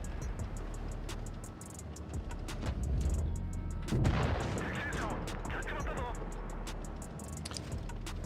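Tank guns fire in World of Tanks Blitz during a tournament match: several heavy booming shots over a dense, constant wash of battle and engine noise.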